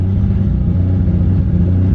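A 700+ horsepower JZ-swapped Lexus SC400 engine idles and revs up close, a deep, steady, throbbing mechanical drone holding loud for two seconds with no talk.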